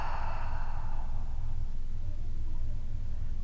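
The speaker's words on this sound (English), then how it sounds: "And then just relax as you exhale." A long, slow exhale during prenatal yoga breathing, soft and airy, fading gradually over a steady background hum.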